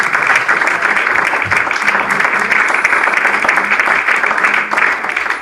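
A church congregation applauds loudly and steadily during a Spanish-language sermon, a dense, continuous roar of clapping with some voices mixed in throughout.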